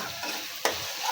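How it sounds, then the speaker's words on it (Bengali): Spices fry in oil in a pan with a steady close sizzle and one sharp scrape of stirring partway through. "মশলা সুন্দর করে তেলের উপরে ভাজা ভাজা করা হয়েছে"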